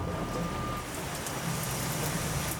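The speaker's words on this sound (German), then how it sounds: "Regenwasser im Nacken gehört auch irgendwie dazu." Rain falls steadily on an airport apron where crews change an aircraft tyre, a constant soft hiss of drops with faint machinery hum beneath.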